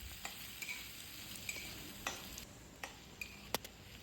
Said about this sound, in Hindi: लगभग प्याज गोल्डन ब्राउन हो जाए तब तक हम इसको भुनेंगे